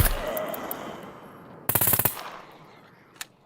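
Automatic gunfire from the SCUM survival video game rattles in a sharp rapid burst over quiet ambience, followed by a single distant shot a moment later.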